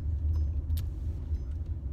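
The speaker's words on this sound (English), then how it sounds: "I'm driving home now." A car driving home, heard from inside as a low steady engine and road rumble with faint rattles and small clicks in the cabin.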